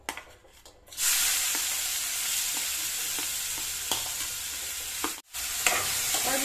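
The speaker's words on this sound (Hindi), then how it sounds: "और ये मेरा तेल गरम हो गया है। अब मैं इसमें अनियन डाल देती हूँ।" Onions hit hot oil in a pan and burst into a loud, continuous sizzle, with a few light stirring taps and a brief break near the end before the frying resumes.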